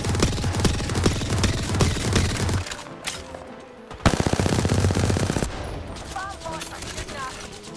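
Automatic gunfire rattles in loud rapid bursts in the video game Apex Legends, with a second sustained volley midway and fainter shots trailing off, while voices talk over the action.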